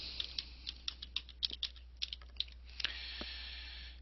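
Fingers type on a computer keyboard in a quiet room, a string of light, quick clicks at an uneven pace over a low steady hum, faint and close.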